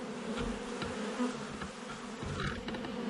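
Honeybees hum and buzz around the entrance of a new hive as foragers bring in pollen, a steady close drone with individual bees passing near, quiet and without talk.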